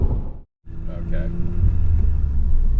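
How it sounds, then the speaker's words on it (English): Volkswagen GTI fitted with a different exhaust, driving with a steady low rumble that cuts out briefly near the start and then builds again, with talk over the top. "we're going for a quick drive in my car just to let Chris react to a different exhaust"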